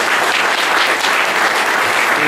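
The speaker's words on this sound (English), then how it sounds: "Everyone give Mr. Kuchar a round of applause." A crowd at an event gives loud, dense, continuous applause, an even wash of many hands clapping close by with no voices standing out.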